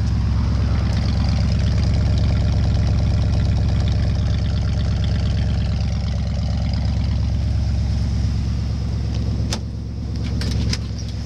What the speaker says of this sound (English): Kind of sounds like an old school muscle car that was riding around in the 80s